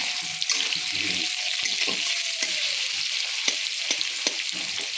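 Onions sizzle and fry in a pan for a crisp fried garnish, a steady close hiss with occasional clinks of a utensil stirring.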